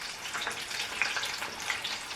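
Steady crackling sizzle of tofu frying in hot oil, a continuous bright hiss with small pops, close and fairly quiet.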